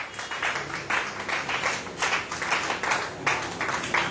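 A church congregation claps and cheers in praise of the Lord, a steady, dense wash of applause with rhythmic surges, filling the room at close range.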